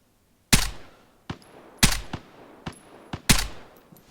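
Three loud, sharp gunshots in Vigor, spaced about 1.4 seconds apart, each followed by a quieter crack or echo, with near silence before the first shot.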